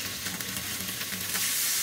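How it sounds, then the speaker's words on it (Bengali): Beef pieces browning in a pan over high heat for beef stroganoff, a dense continuous sizzle heard up close with light stirring. "এখন এইগুলাকে আমার দিয়ে ভেজে নিতে হবে একটু বাদামি করে"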